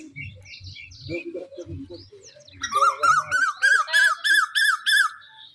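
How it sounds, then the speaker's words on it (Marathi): Low voices talk briefly, then a common hawk-cuckoo gives a loud series of repeated shrill calls, about seven in a steady rhythm, close by. "बघा ते पावसा वरडायला लागला अजून."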